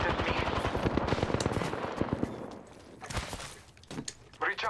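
Rapid automatic gunfire rattles loud and close in the shooter game Apex Legends, a quick steady stream of shots that tapers off, followed by a few scattered louder bangs and a voice speaking over the action.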